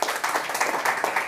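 A church congregation claps together in a quick, dense burst of applause, fairly close and loud, filling the short moment without talk.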